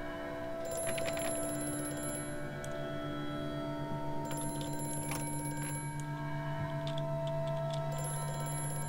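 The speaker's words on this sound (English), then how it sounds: "Damn phone!" A telephone rings in Amnesia: A Machine for Pigs, several repeated bell-like trills over a steady droning ambient background with low hums and faint clicks.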